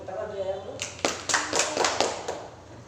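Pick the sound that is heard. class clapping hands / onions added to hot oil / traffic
class clapping hands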